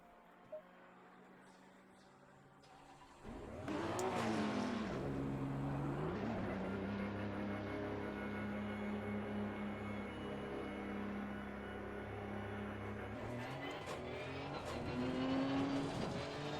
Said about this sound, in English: Power sound in this game is really nice.